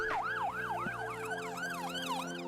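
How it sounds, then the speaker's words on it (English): An emergency vehicle siren wails on the road in a steady, repeating rise-and-fall pattern. It is heard at moderate distance over the low hum of traffic, with no voices. "an emergency vehicle will probably switch off its siren as it follows you"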